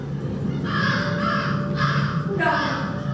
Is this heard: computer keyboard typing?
no